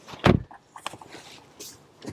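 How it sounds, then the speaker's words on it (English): A door on a 2026 Hyundai IONIQ 9 SEL SUV shuts with one solid close thump, followed by lighter clicks and handling sounds nearby. "step back here, close the door"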